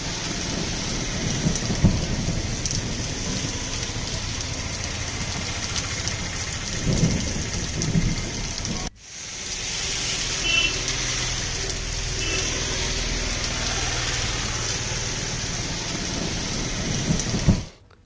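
Heavy rain pours steadily across Madhya Pradesh, with thunder rumbling underneath. The downpour is dense and continuous throughout, with a brief cut near the middle before the rain resumes just as strong.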